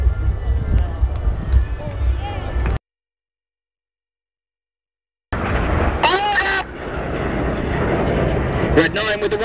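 Red Arrows display jets roar past during an air show, a loud broadband jet rumble that cuts out briefly then returns with rising whine, mixed with crowd and wind noise.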